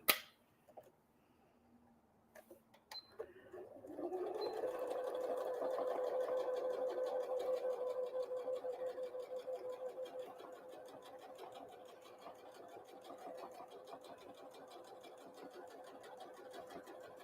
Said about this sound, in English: I'm just going to clip this in place while I top stitch around this one